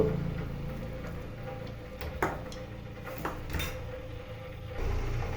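A kitchen stove is switched on before cooking a bottle gourd curry, giving a few faint, sharp mechanical clicks over a quiet, low background.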